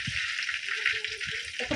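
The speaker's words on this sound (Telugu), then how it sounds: "ఇప్పుడు అయితే ఆయిల్ అయితే వేడెక్కింది ఇందులో మనం ఆనియన్స్ అన్ని వేసుకోవాలి" Onions sizzle steadily in hot oil in a home kitchen pan for a chicken fry, a bright, hissing crackle with soft stirring clinks near the end. Heard close, with no talking.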